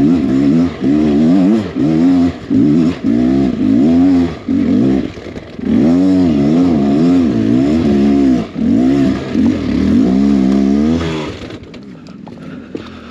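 A Beta X Trainer 300 enduro motorcycle stuck on hard enduro terrain revs loudly and repeatedly, engine bursts rising and falling in close succession before easing off near the end.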